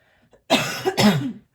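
A single harsh cough, close and loud, in two quick bursts after a moment of near silence.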